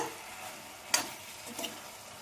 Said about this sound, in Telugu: ఈ టైంలో మనం ఉడికించుకున్న చికెన్ ముక్కలు వేసుకుందాం వేపుకున్న చికెన్ ముక్కల్ని ఇవన్నీ బాగా సాస్ పట్టేలాగా కలుపుకోవాలి